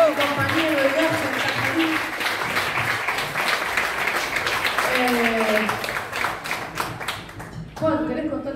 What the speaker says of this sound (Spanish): Pido un fuerte aplauso para Juan Leguiza,